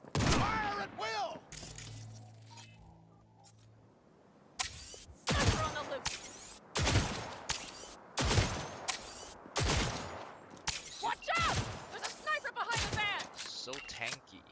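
Gunfire in the video game Cyberpunk comes as sharp, loud repeated shots in bursts and single cracks, with shouted voices and game sounds in between.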